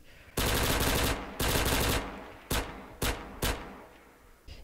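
Gunfire from a plastic-bodied gun in a first-person shooter game: two long, loud bursts of rapid automatic fire, then three shorter bursts, each fading into a brief echo.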